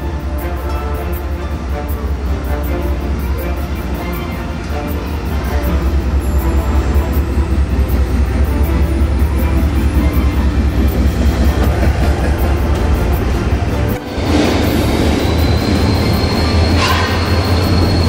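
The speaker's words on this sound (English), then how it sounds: "A journey on Pakistan Railways train route from Lahore to Sialkot by 9 Up Allama Iqbal Express." A Pakistan Railways passenger train, the 9 Up Allama Iqbal Express on the Lahore to Sialkot route, rumbles steadily from onboard with a loud continuous low roar and faint wheel rattle, with a brief squeal and dip near the end.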